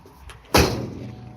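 The enormously heavy bonnet of a 1965 Hillman Super Minx slams shut with a single solid thud after a faint click, followed by a short fading resonance.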